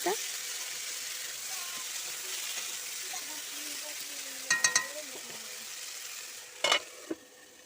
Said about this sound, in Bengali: পেঁয়াজ লঙ্কা সব ভেজে একটুখানি হলুদ দিয়ে আলুটা বসিয়ে দিলাম